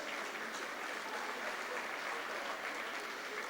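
An audience at an evening Deepavali open house event applauds the organizers with steady, dense clapping that holds evenly throughout, heard from a distance in a large hall.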